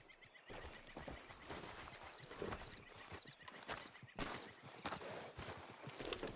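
Horse in a PS4 video game neighing and walking with clip-clop hooves, dense game audio throughout at a steady moderate level, no talk.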